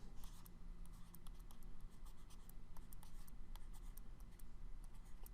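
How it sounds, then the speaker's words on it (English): Marker or chalk scratches steadily across a board as the order of operations is written out, a close, continuous run of short scraping strokes with no talk. "I'm going to write the order of operations."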